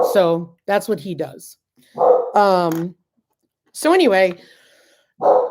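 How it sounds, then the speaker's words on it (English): A farm dog barks and whines in short bursts, mixed in with close conversational talk. "sorry for the barking dog"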